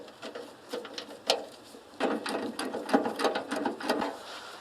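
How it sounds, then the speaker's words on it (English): Ratcheting wrench turning a bolt on a Ferguson TO35 tractor, close rapid clicking in short bursts that grows busier and denser in the second half, with no talking. "the ratcheting wrench comes in handy"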